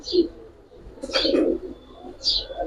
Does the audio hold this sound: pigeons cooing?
yes